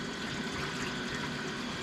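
Water pours steadily into a smoker being set up at 275 degrees to smoke a pork butt, a continuous rushing, splashing stream lasting the whole moment.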